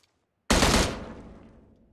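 A UMP9 submachine gun in an Android shooter game fires one abrupt, loud burst that cuts in and then fades with a trailing echo.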